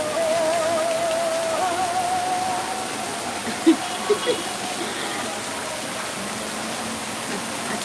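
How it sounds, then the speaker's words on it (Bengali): Steady evening rain falls in a continuous hiss for the whole stretch, loud and close, with a faint tone and a few soft knocks partway through and no clear talk over it. "আলহামদুলিল্লাহ বৃষ্টি"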